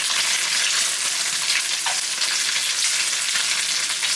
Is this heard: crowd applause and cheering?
no